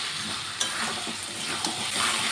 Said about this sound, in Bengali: এখন আমি ভেজে রাখা আলুটা দিয়ে দেব আলুটাকে দিয়ে সুন্দর করে মশলার সাথে রান্না করে নেব কিছুক্ষণ